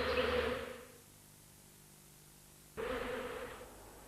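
Bees buzzing near a hive in a nature setting: two close, loud buzzing passes with a quiet gap between them, each swelling in and trailing off.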